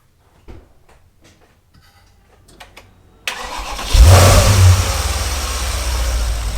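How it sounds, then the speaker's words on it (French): After a few clicks and rattles, a Porsche Panamera engine cranks and catches, then revs briefly before settling into a loud, steady rumble. "maintenant on démarre le moteur et on attend 8 minutes"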